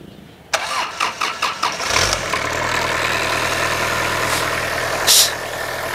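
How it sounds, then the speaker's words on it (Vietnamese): A Kubota V1505 diesel engine cranks in several rhythmic starter pulses, catches at about two seconds, and settles into a steady, close, loud idle with a brief rise near the end; no one speaks. "Để thì em đề máy cho bác chị em nghe nha."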